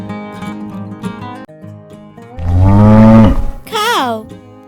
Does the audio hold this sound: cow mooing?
yes